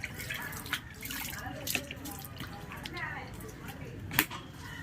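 A scaled fish is rinsed under running tap water, a faint splashing trickle with a few sharper spatters, while someone talks over it.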